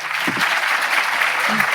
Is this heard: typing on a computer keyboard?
no